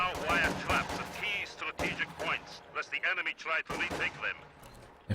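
Infantry support gun artillery fire in the Company of Heroes 2 strategy game, a series of loud booming shots and impacts in quick succession under a commentator's continuous talk.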